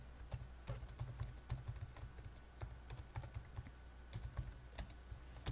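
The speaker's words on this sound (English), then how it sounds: "And let's type some stuff here." Rapid, uneven typing on a computer keyboard, close and clear, a steady run of key clicks with small pauses and no talking.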